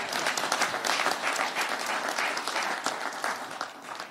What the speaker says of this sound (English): Also, you can clap.